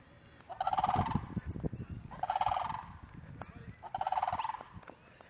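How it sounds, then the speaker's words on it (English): Birds call in three loud, honking, gobbling bursts at regular intervals, with quieter rustling and background murmur between them. "See, those are the flamingos making that sound."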